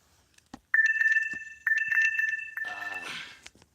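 A dying phone that is plugged in sounds a short electronic alert of bright repeated tones, a couple of clear beeping phrases, close and alone in a quiet room.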